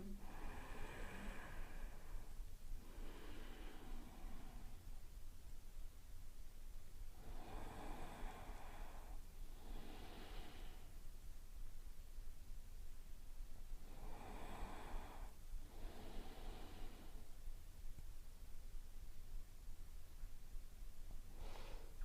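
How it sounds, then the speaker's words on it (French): Slow, deep breathing in and out during a yoga session, with soft airy inhales and exhales repeating about every three to four seconds, close and quiet, under a low steady hiss. "Profond inspire, profond expire."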